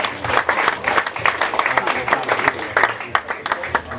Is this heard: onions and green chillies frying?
no